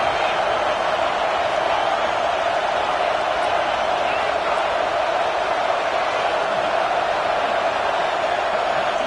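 A stadium crowd at a college football game roars in a dense, sustained wall of cheering and noise, loud and unbroken, with a commentator talking over it.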